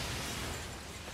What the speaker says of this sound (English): Explosions that the game can't handle! They blew up each other.